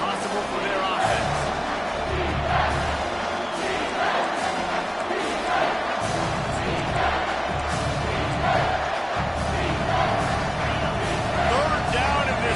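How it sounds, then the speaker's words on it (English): A loud football stadium crowd roars continuously on third down to back the home defense, broad and sustained cheering and yelling with a commentator talking over it. "this crowd will blow out a vocal cord to help this defense"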